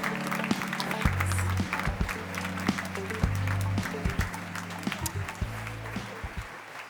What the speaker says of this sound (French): Je vous demande d'applaudir et M. Flavien Chevret.